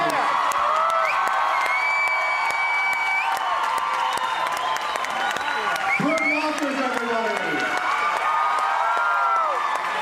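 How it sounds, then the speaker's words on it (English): Crowd cheering, whooping and clapping at the Knott's Scary Farm 2013 media announcement, a constant loud wall of noise with shrill shouts and whistles rising above it and talk mixed in. "please give them a warm Scary Farm round of applause"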